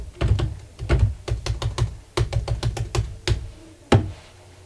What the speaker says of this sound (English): I'm gonna put typing sounds here.